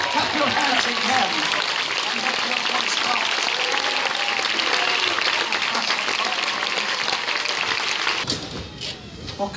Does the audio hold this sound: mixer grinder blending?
no